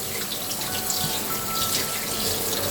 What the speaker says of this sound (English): For chicken thighs, I just open it up and give it a good rinse.